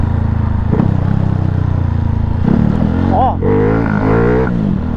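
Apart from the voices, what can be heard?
motorcycle engine revving while riding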